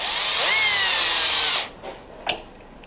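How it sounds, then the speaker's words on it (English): A countersink bit grinds into aluminum for about a second and a half, a loud steady whine with a rising squeal. It then cuts off, followed by a couple of faint handling clicks, in a workshop building a 1929 Ford Roadster pickup. "I have one of these countersink bits"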